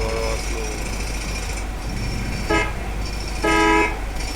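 Car horns honk in a video game traffic jam on a Bangladeshi road from Dhaka toward Comilla, two short, bright honks standing out over a steady engine rumble while a voice talks.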